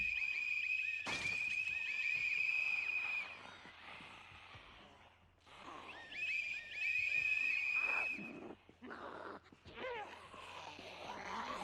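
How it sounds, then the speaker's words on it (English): An Aztec death whistle in the Project Zomboid zombie apocalypse game gives two long, shrill, scream-like blasts separated by a short gap, over a quiet background of faint game noise. "an Aztec death whistle"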